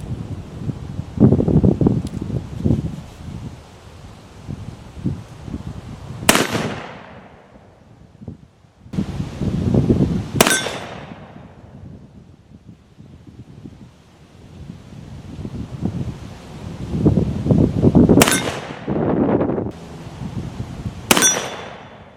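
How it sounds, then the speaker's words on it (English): An Armi San Marcos 1851 Navy .36 Sheriff black-powder revolver fires four sharp, cracking shots outdoors, several seconds apart, each echoing away, over steady wind buffeting the microphone. "let's try some long range shots with the 1851 Navy"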